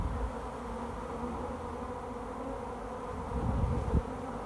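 Bees from a backyard shed hive hum in a steady, dense buzz that holds throughout, swelling slightly near the end with a brief thump.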